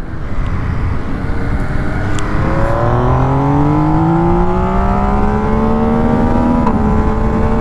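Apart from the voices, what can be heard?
MV Agusta 800 Dragster motorcycle engine accelerating hard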